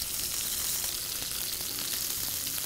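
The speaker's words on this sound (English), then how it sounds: "we're gonna sear that fatty exterior of the pork chop" Brined pork chops sear in a hot pan, a steady, dense sizzle that hisses without pause, close and fairly loud, with no voices over it.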